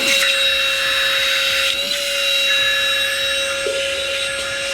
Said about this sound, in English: So this, it looks like, is the vacuum attachment mode.